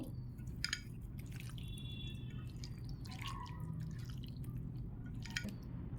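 Chicken being worked by hand with garlic paste and Maggi masala makes soft, wet squishes and drips, close but quiet, in irregular bursts.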